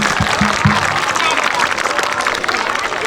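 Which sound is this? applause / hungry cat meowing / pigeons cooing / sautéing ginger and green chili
applause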